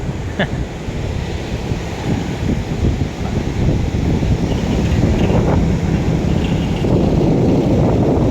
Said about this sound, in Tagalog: Sarap ng piling dito sa tabing dagat. Malakas ang hangin kahit medyo mainit.